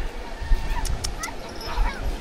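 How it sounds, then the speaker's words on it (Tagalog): A dog yips and whimpers in short bursts at a Bicol campsite, fairly close, with people talking around it. "Aso to sa Jumong eh."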